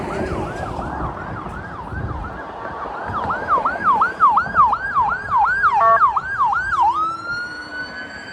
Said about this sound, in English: it's always like some ambulance that's moving around, sounding his horn, going to see somebody